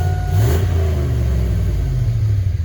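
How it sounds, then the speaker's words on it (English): A 2001 Chevy Silverado 2500HD 4x4 work truck with Flowmaster 40 exhaust idles with a deep, steady rumble, swelling briefly in a short rev near the start before settling back to a loud, even throb. "It's got Flowmaster 40 exhaust on it."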